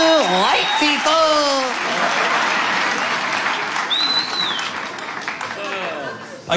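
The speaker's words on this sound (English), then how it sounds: "And a big round of applause for Kansas City." A comedy show crowd in Kansas City breaks into loud, sustained applause with whoops, while voices call out over the clapping.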